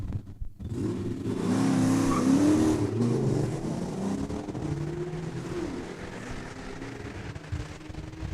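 A convertible Mustang and a Hyundai launch off the line in a quarter-mile drag race at Saskatchewan International Raceway, engines revving hard with rising pitch and a brief tire squeal, then fading as the cars pull away down the track.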